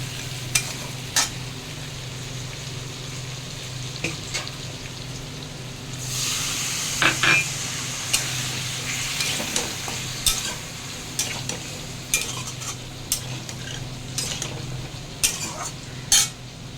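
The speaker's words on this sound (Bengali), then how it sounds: "আলুটা ভাজার পরে হলুদ লঙ্কা দিয়ে দিয়েছি।" Potato pieces sizzle and fry in a pan with turmeric and chili, with a steady hiss broken by repeated scraping and stirring clatters of a utensil against the pan, growing brighter and louder midway.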